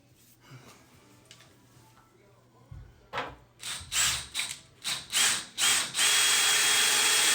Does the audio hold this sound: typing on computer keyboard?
no